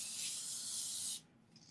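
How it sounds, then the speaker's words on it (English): An aerosol spray hisses continuously indoors at home for about a second, bright and steady, then cuts off, leaving a faint quieter hiss. "I just walk around all day in my house spraying, spraying this."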